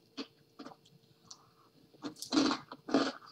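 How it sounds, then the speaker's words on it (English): Someone chews a crunchy snack from a subscription box of international treats, a close series of crisp crunching bites that start sparse and grow louder and denser toward the end. "Can you hear that crunching?"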